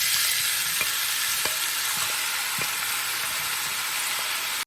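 Cajun pasta jambalaya frying in oil in a pan, a loud, steady, close hiss of sizzling with a few soft clicks from the utensil, no voices.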